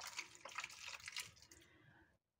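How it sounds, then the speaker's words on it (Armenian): Water poured from a tap into a cooking pot for a Spanish-style vegetable purée, a close, steady splashing stream for about two seconds before it cuts off abruptly into silence. "հիմա ջուր եմ ավելացնելու"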